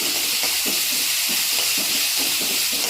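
Tomatoes sautéing in a pan for a broccoli kurma, a steady close sizzle and hiss with soft periodic stirring scrapes throughout, no voices.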